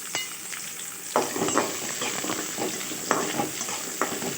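Shallots, garlic cloves and small pieces of ginger sautéing in hot oil for a Tamil fish kozhunkurai, a steady close sizzle broken by several sharper scraping stirs.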